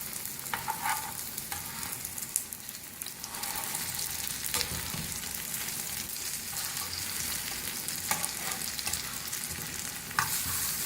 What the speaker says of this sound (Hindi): कबाब हमारे एक साइड से गोल्डन ब्राउन हो चुके हैं, अब टर्न करेंगे एक एक करके।